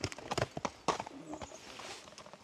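Horses walk past on the Elk River Rail Trail, their hooves clip-clopping in an irregular close rhythm that fades as they move off, with brief voices nearby.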